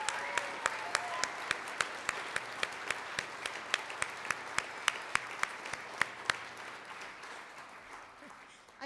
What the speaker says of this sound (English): Let's give Alex Dixon another round of applause